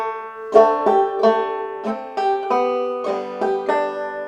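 A banjo plays a simple melody with its accompaniment, a steady run of plucked notes ringing out alone, close and moderately loud, for a few seconds.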